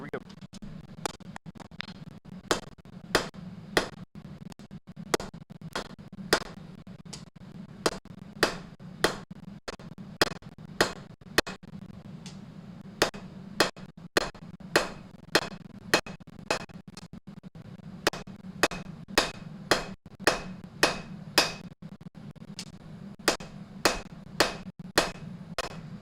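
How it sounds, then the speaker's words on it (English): A blacksmith strikes 9/16 round stock on an anvil while making a fire pit set, sharp ringing hammer blows in a steady rhythm, sometimes in quick pairs, over a low background hum. "you ready to go to the anvil?"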